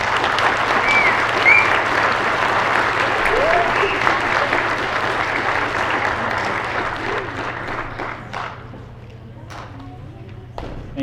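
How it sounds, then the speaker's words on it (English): Loud, sustained applause from an audience at an invention convention fills the space, with a few whistles and voices mixed in, before the clapping thins out toward the end. "let's give them a round of applause."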